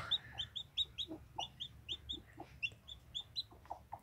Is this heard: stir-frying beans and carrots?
no